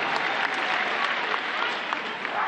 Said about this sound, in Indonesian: Beri tepuk tangan untuk seluruh jajaran Amanat Indonesia